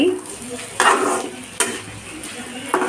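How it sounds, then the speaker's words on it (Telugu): Ivy gourd and fresh coconut fry is stirred in a pan near the end of cooking, with loud spatula scrapes and clinks over a steady sizzle, close and without speech. "ఆల్మోస్ట్ ఫినిష్ అయిపోయిందండి దొండకాయ కొబ్బరి కూర ఫ్రై"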